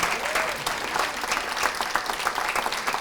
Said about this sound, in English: feel free to applaud like crazy